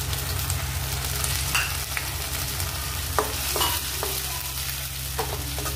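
Onion paste frying in oil in a pan while being stirred, a continuous close sizzle with a low hum beneath and several quick spoon scrapes in the second half.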